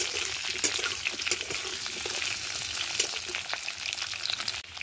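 Potatoes sizzle and fry in hot oil in a pan seasoned with a cinnamon stick and dried red chillies, a continuous close crackling hiss with occasional stirring clicks and no voices.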